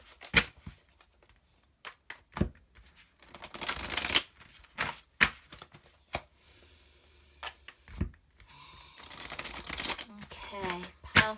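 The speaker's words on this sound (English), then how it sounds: "So let me just give these a good shuffle." Tarot cards being shuffled by hand in a quiet room, with repeated crisp riffles and sharp flicks in uneven bursts, several longer papery runs, and faint talk in places.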